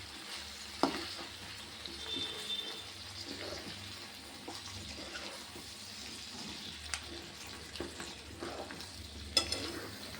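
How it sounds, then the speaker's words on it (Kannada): Mutton chop pieces fry in oil and masala with a steady close sizzle, broken by occasional stirring scrapes and clinks in a home kitchen. "ಮಸಾಲೆನ ಎಣ್ಣೆ ಚೆನ್ನಾಗಿ ಫ್ರೈ ಮಾಡ್ಕೋಬೇಕು ಪೀಸ್ ಜೊತೆ ಅಲ್ವಾ?"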